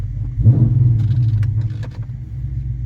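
A tuned E85 Dodge Scat Pack with a stage 2 220/230 cam idles with a deep rumble, then gives a short, gentle rev that swells and settles back down, fairly close.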